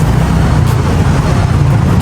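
Steady low road-traffic rumble of passing cars and heavier vehicles, loud and continuous with no talk.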